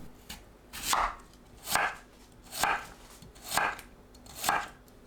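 Knife chopping onion into 1 cm slices on a cutting board while making a Korean chicken soup, five evenly spaced crisp chops roughly a second apart, close and clear with no talk.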